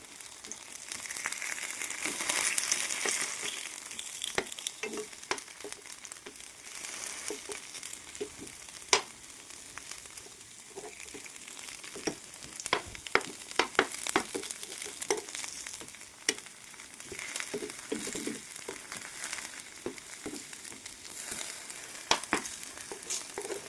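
Potato and egg pieces sizzle softly in a pan while being turned, with a steady frying hiss broken by scattered clicks and scrapes from the turner. No one speaks.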